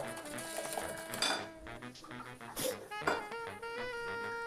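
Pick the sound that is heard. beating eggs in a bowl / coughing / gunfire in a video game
beating eggs in a bowl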